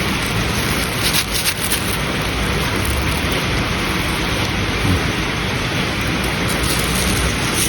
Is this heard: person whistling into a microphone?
no